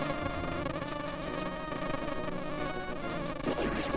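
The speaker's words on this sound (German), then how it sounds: "Müssen denn überall Bienen drin sein?" Swarm of bees buzzing in The Legend of Zelda: A Link to the Past, a dense, continuous insect drone layered with busy game sounds and music, steady and loud throughout.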